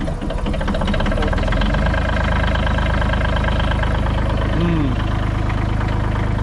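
Diesel skid steer engine idling and running steadily throughout, a loud continuous low rumble with a brief rising whine near the end; no talk over it.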